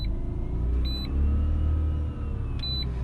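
A Mazda RX8 with a rotary engine runs while driving, giving a steady, loud low rumble of engine and road noise with a slight swell in the middle and no talking.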